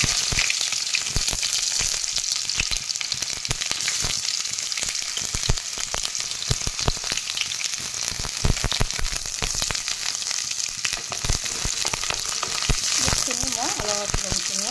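Onions frying in hot oil in a kadai, a steady close sizzle with occasional stirring scrapes, running evenly throughout at moderate volume.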